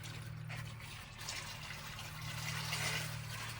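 Thin 0W-20 engine oil splashing and trickling steadily as it is poured during a Subaru BRZ oil change in a garage, a continuous watery pour under a low steady hum.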